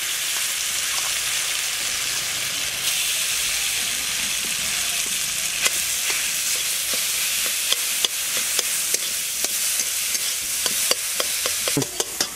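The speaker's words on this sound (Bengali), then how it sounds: "তো সেই তেলের মধ্যেই পনিরটা আমি দিয়ে দিচ্ছি" Paneer sizzles steadily in leftover oil in a wok after frying pointed gourd, with a constant hiss and sharp stirring scrapes and clacks growing more frequent toward the end, close and alone.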